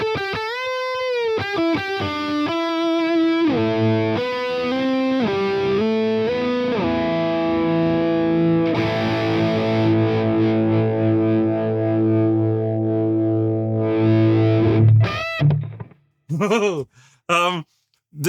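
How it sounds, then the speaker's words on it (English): Distorted electric guitar lead lines through a Soldano SLO Plus amplifier's lead channel, sustained bending notes and held tones loud and continuous, ending with a few short clipped bursts. "I'm going to have to play some lead lines because that's definitely set up for lead rather than chords."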